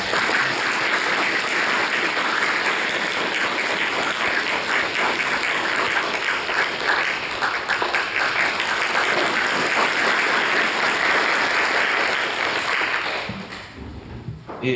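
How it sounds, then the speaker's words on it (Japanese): A seated audience at an award commemorative lecture gives sustained, dense applause for the incoming speaker, a steady wash of many hands clapping for about thirteen seconds before quickly dying away. "皆様、拍手でお迎えください。"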